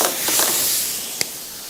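Chopped garlic and a little chopped onion sizzling in a pan as the start of a pepper sauce, a soft steady hiss with one sharp pop near the end, close and fairly loud, with no talking.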